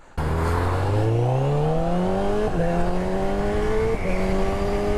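A 2022 Honda CB1000R Black Edition, its former Fireblade inline-four engine revving hard and climbing through several gears, loud and close, with pitch rising steadily between short shift breaks.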